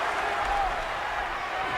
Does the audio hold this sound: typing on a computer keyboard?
no